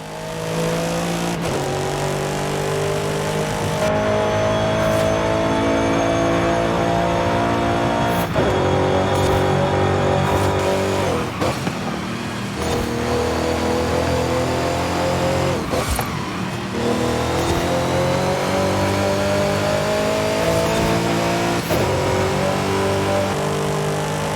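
A 2012 BMW M5 in Forza Horizon 5 revs hard through the gears during a street race, its loud engine climbing and dropping in pitch with sharp gear changes, continuous and close with no talk over it.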